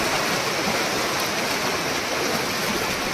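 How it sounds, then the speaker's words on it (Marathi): A small stream gurgles and rushes steadily nearby, a constant bright splashing of flowing water with no voices. "ते बघा बारीकसाच वडा आहे बरंचसं पाणी"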